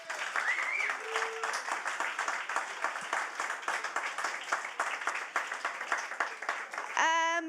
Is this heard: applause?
yes